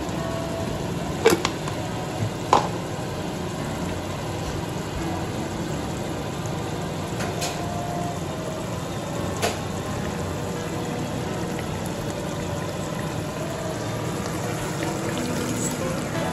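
Blended carrot and water pours steadily into a pot with a constant soft splashing hiss, punctuated by a few sharp clicks early on.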